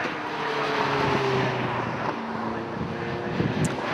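TVR Tuscan race cars at Oulton Park pass close by at the finish line, their engines a loud sustained roar with shifting pitch as one car sweeps through, with crowd and track noise behind.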